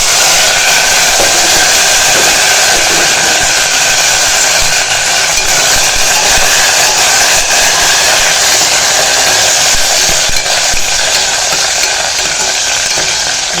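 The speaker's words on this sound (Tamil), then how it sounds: "தக்காளி, பச்சை மிளகா இது வதங்கட்டும் நல்லா." Okra, tomato and green chili sautéing in a pan, with a loud continuous sizzle and hiss close up, steady throughout with no talking.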